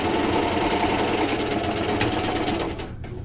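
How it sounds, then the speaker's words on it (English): A sewing machine running steadily as it stitches off the end of the fabric, a close, fast mechanical whirring that slows and stops at the end. "Right off the end I sew."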